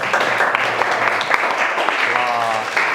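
A classroom group gives a round of applause after a student presentation, steady dense clapping throughout with voices chattering underneath.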